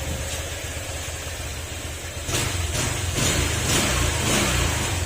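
A car engine runs steadily nearby, then picks up with a slight rev about halfway through and holds at a louder, rougher hum.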